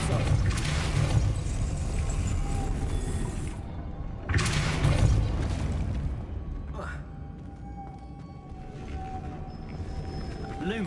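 Depulso spell cast in the video game Hogwarts Legacy: two loud, sweeping bursts, each lasting a few seconds, rise over a steady hum of game ambience and fade into a quieter tonal background.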